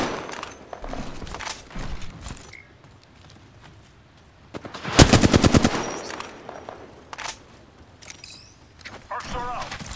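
Automatic gunfire in the battle royale video game Apex Legends, a loud rapid burst of shots in the middle of the clip, with game sounds and voice callouts around it.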